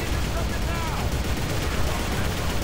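Steady gunfire in the video game Inversion, a constant dense rattle of shots mixed with battle noise, running at an even level throughout with no pauses.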